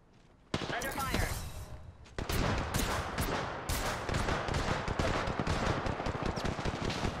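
Rapid automatic gunfire from an R-301 rifle and other weapons in the Apex Legends video game, sharp and dense bursts nearly nonstop after a brief quiet start, loud and close with clipped gaps between volleys.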